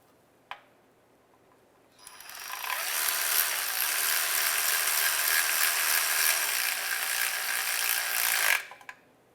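A ratchet cranks steadily on a Honda Element engine oil pan bolt, a continuous close metallic clicking that runs for about six seconds after a single sharp click, then stops abruptly.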